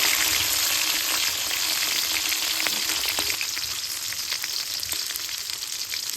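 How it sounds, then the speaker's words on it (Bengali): Green chilies, some whole and some chopped, frying in oil left over from making shrimp pakoras, a steady soft sizzle with crackling pops throughout. "পকোড়া ভাজার তেলে কাঁচামরিচটি ভেজে নিব"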